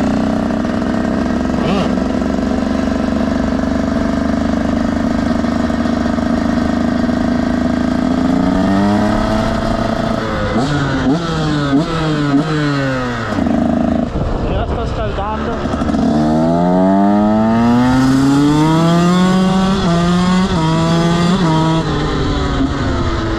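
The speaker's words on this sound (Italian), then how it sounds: "Ora ragazzi provo un KTM SX del 2019." A 2019 KTM SX dirt bike engine idles steadily, then revs up and down repeatedly in rising and falling bursts, loud and close.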